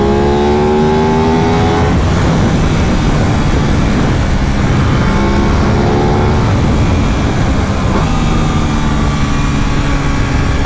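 An Aprilia RS 660 sport motorcycle roars loudly on twisty canyon roads, its engine rising and falling through gear changes under constant heavy wind buffeting.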